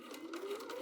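Sewing machine stitching two opposite fabric curves together while the collar is assembled, a steady close whirring hum with a faint rhythmic needle pulse running throughout.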